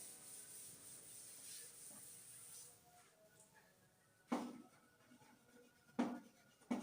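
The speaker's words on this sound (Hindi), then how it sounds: "थोड़ा सा लिख देती हूँ" Chalk or marker scratching across a board during a chemistry lesson, faint rubbing strokes followed by a few sharper, distinct scrapes near the end.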